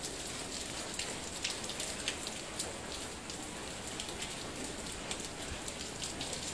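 Rain falls steadily in the hillside streets of Jiufen, Taiwan, a soft even hiss with scattered drips and patters, heard alone at low volume.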